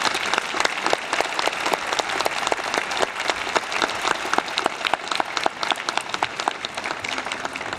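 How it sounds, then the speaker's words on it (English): A large audience at a 2010 Emory University School of Law commencement claps steadily and densely, a sustained round of applause filling the hall from start to finish. "Let's have a round of applause."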